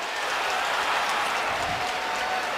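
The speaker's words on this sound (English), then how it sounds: "This offense finally giving these fans something to cheer about." Stadium crowd at a 2014 NFL preseason football game between the Buccaneers and Bills in Buffalo, cheering and applauding as a steady, dense roar of clapping and voices sustained throughout.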